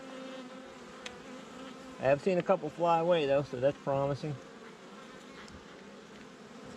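Honeybees buzz in a steady, faint drone from an open beehive during a colony check, continuing throughout while a person talks quietly over the hum midway.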